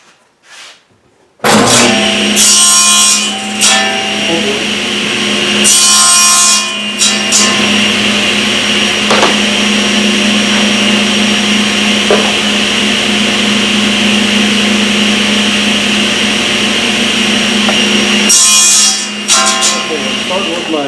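A power saw rips along the edge of wooden boards on a workbench, a loud close whine that starts abruptly and runs steadily for most of the stretch, with brief louder cutting surges near the start and end.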